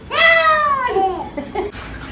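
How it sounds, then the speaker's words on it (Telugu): A cat on a home balcony gives a drawn-out, falling meow followed by a couple of shorter, softer mews, heard close and clear. "పిల్లి"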